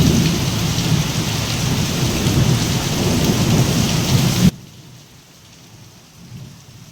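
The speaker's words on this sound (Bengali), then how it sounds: "প্রচুর বৃষ্টি হচ্ছে আর এত বিদ্যুৎ চমকাচ্ছে এত বাজ পড়ছে" Heavy rain pours down during a thunderstorm with lightning, a loud, dense roar of downpour that abruptly drops about two-thirds of the way through to a much fainter patter.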